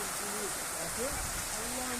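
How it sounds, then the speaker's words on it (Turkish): Rain falling over open fields, a steady broadband hiss filling the background while someone talks over it. "Çok güzel yağıyor ama şöyle Aşağılarda yazıyor. Bayağı ıslatlı. Yağmur çok güzel maşallah."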